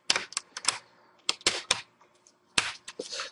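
Plastic screen bezel of an Acer Aspire 7736 laptop being pried off by fingertips: a series of sharp, close snapping clicks in irregular bursts, with short quiet gaps between clusters of pops.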